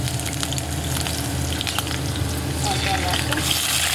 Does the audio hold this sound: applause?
no